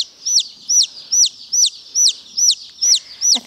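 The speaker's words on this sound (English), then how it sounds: "I think that bird is interrupting me." A chicken on a farm gives a steady run of eight high, arching peeps at an even pace, close and clear, with no one talking.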